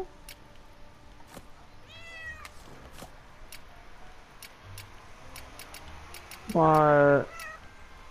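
Cat meowing in the Portal Knights video game, a soft meow around two seconds and a loud, drawn-out meow near the end, with brief ticks and a short spoken word in between.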